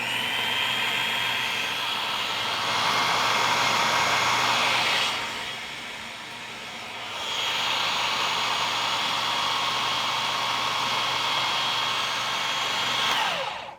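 Food processor whizzing chickpeas and olive oil into hummus, a steady loud whirring hum that drops briefly midway and then resumes at full strength until it cuts off.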